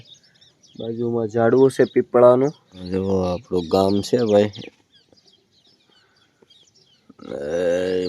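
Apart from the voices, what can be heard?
birds calling in a village in the morning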